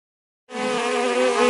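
A voice makes a sustained buzzing hum imitating a bee, starting abruptly after a moment of silence and holding loud and steady.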